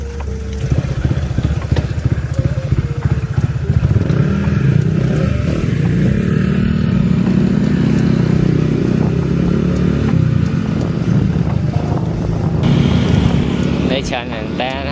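Two motorcycles ride along a road, their engines droning and rumbling steadily with wind buffeting close to the microphone, while people talk over the noise.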